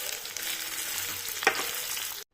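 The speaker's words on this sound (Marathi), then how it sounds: "कांदा तळून झालेला आहे।" Onions frying in ghee and oil with cumin for a vegetable dum biryani, a steady close broadband sizzle throughout with one brief louder scrape or stir partway, alone with no talk, cutting off abruptly at the end.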